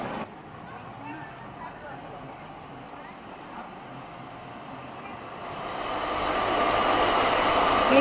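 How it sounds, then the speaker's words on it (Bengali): A Medinipur to Howrah local train pulls out of Medinipur station, a steady low rumble of carriages that swells and grows louder over the final seconds as it gathers speed, with no talk. "নির্ধারিত সময় আমাদের ট্রেন মেদিনীপুর স্টেশন থেকে বেরিয়ে যাচ্ছে।"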